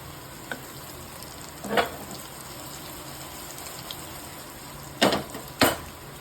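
Pomfret fish fries on a pan with a soft, steady sizzle at low level, broken by a few sharp bursts of spitting or crackle near the end, heard close with no talk.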